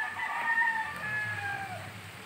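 Free-ranging farm chickens cluck softly near a creek on a hillside plot while a rooster crows in a long drawn call, moderately close and clear.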